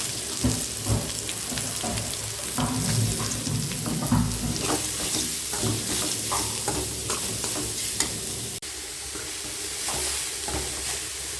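Dried red chilies and carrot frying in a pan, a continuous soft sizzle with scraping stirring strokes close by, steady and moderately quiet throughout.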